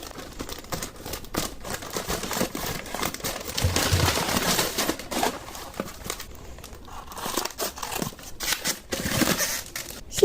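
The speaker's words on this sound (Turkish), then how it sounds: "Bu da babamın almış olduğu son kargo. Bunu da açalım." A pen parcel is unwrapped, its plastic and paper packaging crinkling and rustling steadily up close, with occasional sharper tearing and cutting sounds and no talking.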